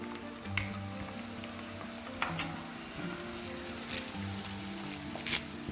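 Garlic sizzles in sesame oil for homemade mango pickle, a steady close crackle and hiss with a few sharp clinks of stirring, and no talking.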